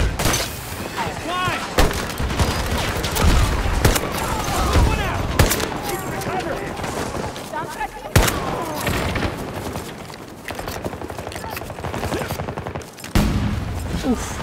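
Shotgun blasts ring out in a first-person shooter video game, several loud booming shots spaced a few seconds apart amid game noise, with a player talking over them.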